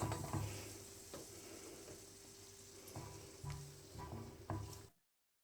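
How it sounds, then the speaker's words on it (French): Broken chocolate pieces being stirred into melted butter in a pan: a soft, steady sizzle-like hiss broken by several light scraping and clinking strokes of a utensil, quiet and close, with no voices. "Au beurre fondu, on incorpore le chocolat cassé en morceaux et on mélange pour faire fondre"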